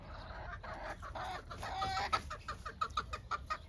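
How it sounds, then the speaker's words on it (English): Backyard hens clucking in a small flock, a series of soft, close, irregular clucks and short calls over quiet background noise. "And happy hens."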